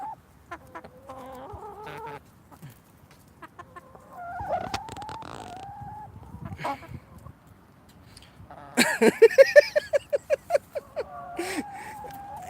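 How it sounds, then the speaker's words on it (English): Chickens cluck and squawk close by in a busy, irregular chorus inside a greenhouse, ending in a louder run of rapid, rhythmic clucks. "Here are the chickens."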